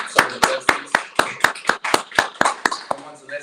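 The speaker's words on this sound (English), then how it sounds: "let's give a round of applause for my Peter Bradshaw, social justice" Audience applause at a climate justice town hall in honour of Peter Bradshaw: a dozen sharp, separate claps in a steady, slightly loose rhythm, close and fairly loud, with a little background voice murmur and no continuous roar of a crowd.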